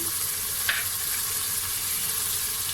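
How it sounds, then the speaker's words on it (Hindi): Boiled black chickpeas with red chilli and turmeric roasting in a hot pan: a dense, steady sizzle close by, with one faint scrape of stirring, alone and without speech. "30 सेकंड के लिए भूनेंगे।"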